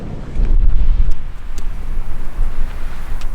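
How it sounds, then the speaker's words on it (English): Cold desert wind blows hard against the microphone outdoors in a continuous low, gusty rumble that stays loud for the whole few seconds, with no other sound standing out. "as you can hear, it's still pretty windy out here"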